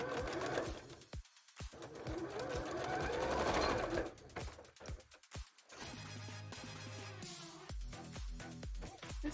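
A sewing machine runs a straight stitch in rapid bursts of mechanical whirring and clatter, pausing briefly between runs, close and loud.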